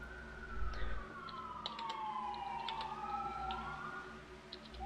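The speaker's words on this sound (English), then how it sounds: "I hear sirens." Sirens wail in long rising and falling sweeps outside an open window, fairly distant and faint, over a low background hum.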